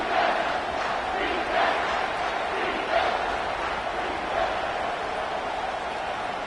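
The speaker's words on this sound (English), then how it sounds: "comes this home crowd as the defense tries to get off the field on third down" Home crowd noise in the College Football 25 video game swells steadily on a third down, a dense roar of cheering with small surges, loud and continuous with no talk over it.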